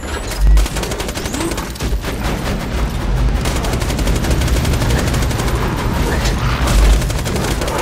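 A turret in Borderlands 2 lets off loud, dense bursts of rapid automatic gunfire, with heavy booming shots spiking near the start and again near the end, and no speech over it.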